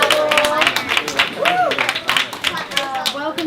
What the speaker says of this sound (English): And clap it up for yourselves.